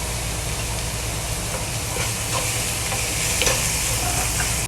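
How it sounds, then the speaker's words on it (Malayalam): Chopped onions sauté in a pan while cooking chicken shawaya. A continuous, fairly loud sizzle with a low rumble underneath is stirred now and then, with a few brief clinks and scrapes and no voices. "നമുക്ക് നേരത്തെ അരിഞ്ഞു വെച്ച ആ സവോള ഇതിലോട്ട് ആഡ് ചെയ്ത് കൊടുക്കാം. എന്നിട്ട് നന്നായിട്ടൊന്ന് വഴറ്റാം."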